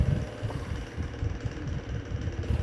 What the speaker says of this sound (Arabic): كده الموتور ايه اشتغل